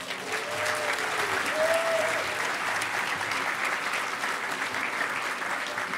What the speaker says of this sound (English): round of applause for Bernie and the EFF.